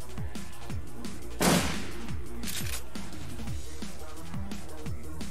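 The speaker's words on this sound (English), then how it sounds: "Now he's gonna come in with the shotgun" Shotgun blast from a ghost shotgun in the video game Shadowrun Returns, a single loud burst over a steady bed of game music with rhythmic beats, followed by a fainter echoing report.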